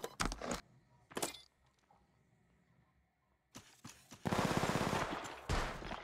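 Apex Legends gunfire crackles in short automatic bursts at the start, goes quiet in between, then returns as a long, loud stream of rapid shots toward the end, with no talking.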